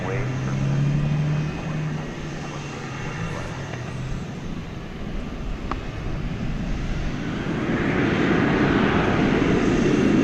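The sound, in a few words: American Airlines Airbus A321 jet departing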